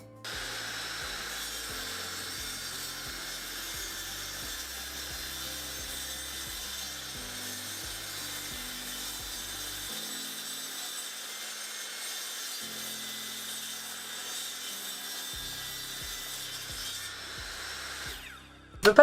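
Wood being cut for a school bus conversion, a steady rasping saw or cutting tool that runs continuously for most of the stretch, then stops abruptly with a sharp knock at the end.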